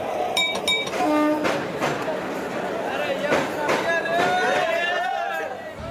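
Passenger train at a station pulling out, steady rumbling rail noise with clinks, squeals and brief horn-like tones, close and continuous, with people talking over it.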